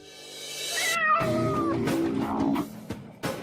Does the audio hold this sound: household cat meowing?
yes